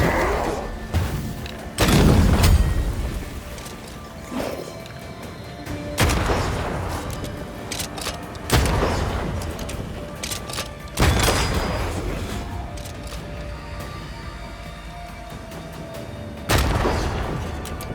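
Rifle gunfire in the game Banishers: Ghosts of New Eden, several loud, booming shots spaced a few seconds apart, each with a ringing tail, and no talk between them.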